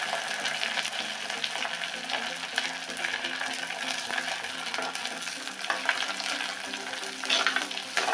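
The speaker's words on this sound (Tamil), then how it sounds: "சின்ன வெங்காயம் போட்டுக்கிறோம்" Small shallots fry in hot oil in a pan along with curry leaves, mustard seeds, dal and fenugreek for a fish gravy, a steady close crackling sizzle with occasional stirring, no talking.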